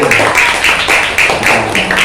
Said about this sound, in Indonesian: Tepuk tangan untuk Mas Wildan teman ini ya.